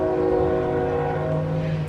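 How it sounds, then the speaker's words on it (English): A train passes close by with a loud, steady rumble while its horn holds long sustained tones, sounding continuously throughout. "And now we have the train."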